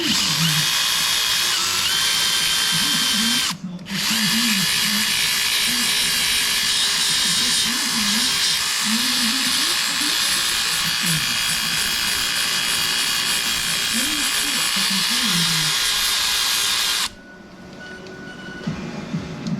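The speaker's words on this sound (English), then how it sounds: "Just going to run a little TIG weld across here, stop his exhaust falling off." A TIG welder runs a bead across a crack in an old vehicle chassis near the exhaust mount, giving a loud, steady hiss and buzz that breaks briefly early on, then cuts out near the end.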